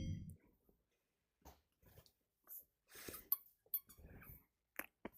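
A pet dog whimpers and snuffles close by in a quiet room, with short, faint squeaky whines and breathy sniffs scattered in uneven bursts and brief silences between.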